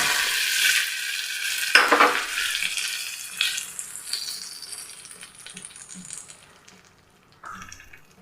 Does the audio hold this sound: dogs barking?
no